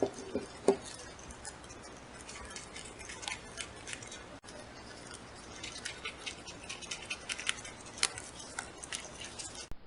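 Scissors snip around the edges of a homemade cardboard lacing board, with faint, sparse clicks and soft cutting sounds spread across a quiet room.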